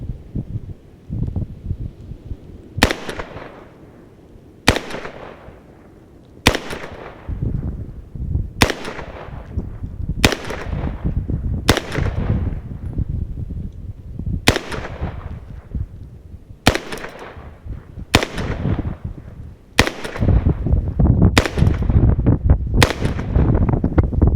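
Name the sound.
gunshots from a PTR 9C fired like a handgun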